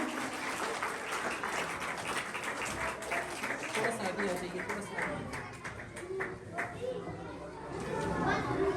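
At a school prize distribution ceremony, an audience of children and adults claps in a rolling round of applause, mixed with chatter and children's voices in the background.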